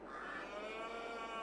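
Cows in the Farming Simulator 22 game give one long, steady, drawn-out moo that is clear and close, alone without talk.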